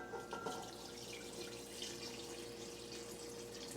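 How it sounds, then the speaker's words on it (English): Running water splashes steadily into a pot for cooking chicken rice, a continuous faucet-like pour with faint clinks at the start, close by and with no talking. "So we're gonna add a little bit of water"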